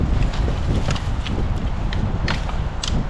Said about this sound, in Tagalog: Mahangin ngayon. Napalitan ng hangin.